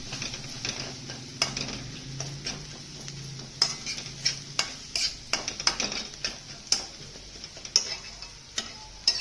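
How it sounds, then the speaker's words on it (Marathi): Pumpkin curry ingredients sauté in hot oil in a pan, a spatula clicking and scraping in irregular strokes over a light steady sizzle, close by and without talk. "चांगलं परतून घ्यायचं ते तेलामध्ये"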